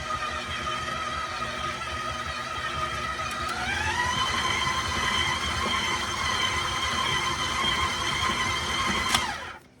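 A stand mixer with a paddle beats Christmas cookie dough, its motor whining steadily, then shifting up in pitch and running on at a higher speed before cutting off abruptly near the end. No one talks.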